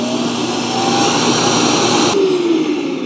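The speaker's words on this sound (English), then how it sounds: "when it docks itself, it's going to turn on that vacuum cleaner to do a self-empty." A loud, steady vacuum motor roars close by as an iRobot Roomba Combo j7+ dock self-empties, its whining drone holding constant with a slight pitch shift partway through.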